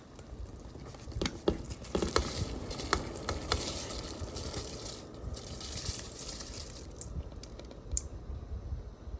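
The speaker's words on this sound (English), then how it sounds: "So I'm about to add my rice." Dry rice being poured into a pot for coconut rice with corn, a faint, dense patter of grains clicking and rattling with a few sharper ticks, running steadily for several seconds without talk.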